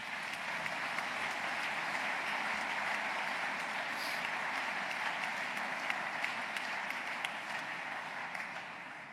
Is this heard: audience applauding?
yes